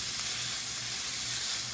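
Chopped taco meat browning in a hot pan gives a steady, dense sizzle that holds evenly throughout, close and alone with no voices.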